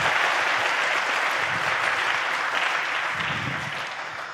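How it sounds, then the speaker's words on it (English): Conference audience giving the presenters a round of applause, a dense, loud, sustained clatter of many hands clapping at once that eases off a little near the end. "If we could just give them a round of applause."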